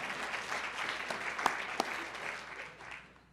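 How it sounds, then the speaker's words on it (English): An audience at a health conference talk breaks into sustained, moderately distant applause, a dense even patter of many hands with a couple of sharper individual claps and no speech. "You can clap, that's great."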